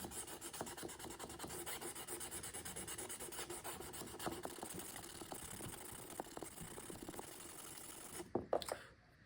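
A travisher blade edge is sharpened with sandpaper wrapped on a wooden dowel, giving quiet, rapid back-and-forth rasping strokes that run steadily, then a few louder knocks near the end.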